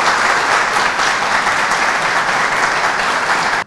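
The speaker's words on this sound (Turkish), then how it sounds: "Ona bir alkış rica ediyorum." An audience at a Turkish municipal sports club general assembly breaks into steady, dense applause, loud and close, that cuts off abruptly at the end.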